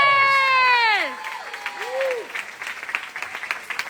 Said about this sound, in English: Come on, let's give them an amazing applause.